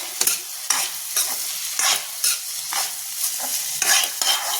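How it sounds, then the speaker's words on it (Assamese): A spoon stirs vegetable curry in a pan, making about nine rhythmic scraping strokes over a soft sizzle, close and clear with no talking. "চব্জিখিনি কি হৈছেগৈ মাজতে লৰাই লওঁ নহ'লে লাগি যাবগৈ"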